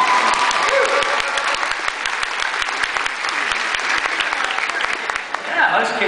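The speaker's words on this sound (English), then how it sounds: "Round of applause for young gentlemen." A convention panel audience at DragonCon breaks into loud, continuous applause with sharp individual claps throughout, crowd noise and some talking mixed in before it begins to taper at the end.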